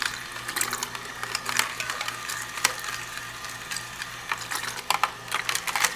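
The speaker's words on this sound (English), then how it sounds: "that's how easy it is to make almond milk in the Omega VERT juicer" An Omega VERT VRT330 vertical juicer making almond milk gives a faint low motor hum with quiet irregular clicks, trickles and liquid splashes scattered throughout, at close range and with no voices.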